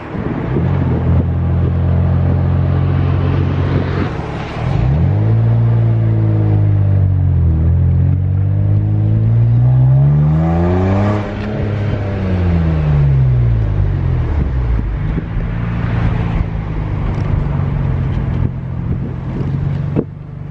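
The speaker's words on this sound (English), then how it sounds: "I gotta let off the throttle literally as boost hits, because if not, then I'll go too fast." BMW 135i accelerating hard under turbo boost, its engine note climbing and dropping through repeated pulls with a shift, loud and close from inside the car, no talking.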